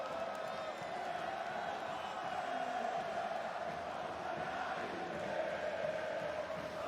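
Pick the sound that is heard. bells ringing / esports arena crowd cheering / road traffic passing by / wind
esports arena crowd cheering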